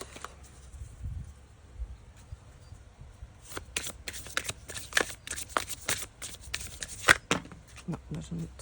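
Tarot cards are handled, shuffled and laid down on a table, a quiet stream of close papery flicks and soft taps that grows busier toward the end, with low murmuring in the background.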